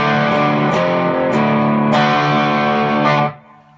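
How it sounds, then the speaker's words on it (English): Heavily distorted electric guitar chords from a Les Paul-style guitar through amp distortion ring out loud and sustained, with a few sharp pick attacks, then cut off abruptly near the end. "Amp distortion."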